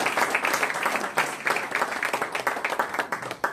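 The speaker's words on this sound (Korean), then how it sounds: "큰 박수 부탁드리겠습니다." Audience applause at an award ceremony, brisk crowd clapping with a fluttering rhythm that swells and dips over a few seconds, fairly close and without speech.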